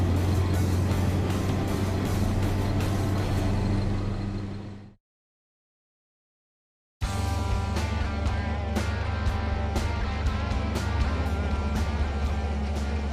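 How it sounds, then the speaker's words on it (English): A 4x4 K20 truck on the road, engine running with a steady loud drone and road rumble, cutting out to silence for about two seconds midway, then resuming with some rattling over the drone. "We're driving along and the engine is running so much better"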